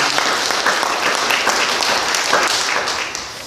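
A congregation at a Korean church morning service applauds to bless a young member, dense, loud clapping sustained throughout before easing slightly at the end.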